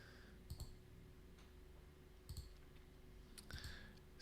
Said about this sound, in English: It's a lot of typing.